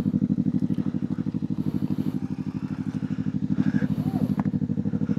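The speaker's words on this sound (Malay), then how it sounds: "Try start motor." A Yamaha MT-25 motorcycle engine idling with a steady rapid putter, close by, with faint clatter around it.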